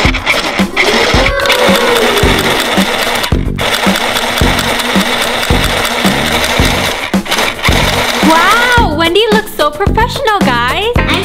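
A toy sewing machine runs in a loud, continuous buzzing whir with rhythmic pulsing, interrupted by brief pauses, while children and adults talk over it in a playful pretend-play setting.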